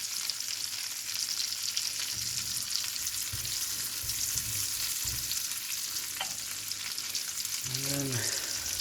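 Pepper sauce of black pepper, brown sugar and orange juice bubbles in a pan on low heat, giving a soft, continuous sizzle broken by a few stirring scrapes, with a clatter of the spoon near the end.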